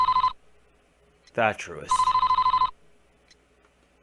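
A telephone in the Famicom Detective Club Part II video game rings in two short bursts of bright, trilling electronic tone, with a voice speaking briefly between them before the second ring.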